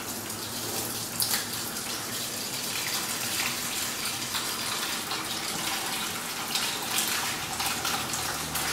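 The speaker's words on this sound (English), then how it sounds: "We just open up valve 16 and drain its contents." Soapy wash water drains through an opened valve on a biodiesel processor, a steady, loud rushing gush of liquid that continues without a break.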